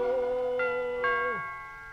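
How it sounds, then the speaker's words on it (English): A doorbell chimes in an old-time radio comedy on Christmas Eve, two clear ding-dong tones ringing close by over a fading musical chord, with no talking. "Oh, that was the doorbell."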